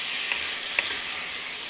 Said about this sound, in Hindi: इसलिए देखिए पनीर भुना गया है।